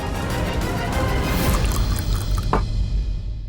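Water poured into a container indoors, a steady splashing stream that thins and trickles out near the end, close and fairly loud with no voices.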